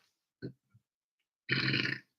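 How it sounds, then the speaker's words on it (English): A single close, low burp lasting about half a second, followed by a tiny grunt-like sound and a brief stretch of quiet. "Confirmation burp, excuse me."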